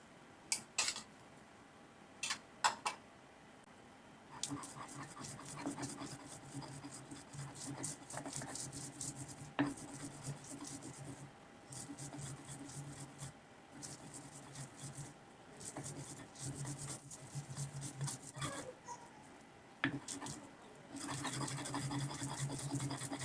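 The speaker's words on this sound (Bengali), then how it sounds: "প্রথমে আমি এগুলো বেটে নিচ্ছি" Drumstick leaves ground on a washed, dried stone slab, giving repeated close scraping and rubbing strokes in uneven bursts, fairly quiet throughout.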